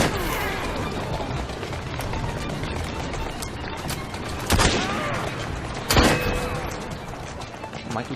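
Gunfire in the video game Assassin's Creed Syndicate, mostly a dense, continuous wash of game noise with two sharp, loud shot bursts standing out near the middle and end.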